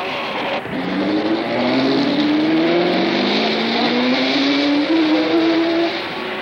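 Race car, number two, pulling out of the pits at a classic auto race, its engine rising steadily in pitch as it accelerates away, loud and continuous with crowd and track noise beneath.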